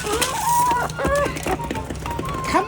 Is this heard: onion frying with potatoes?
no